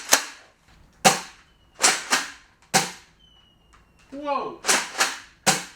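A Nerf Roto Fury blaster fires blue mega darts in six sharp, loud shots at uneven intervals, each a crisp pop with a quick decay, and a voice exclaims between them.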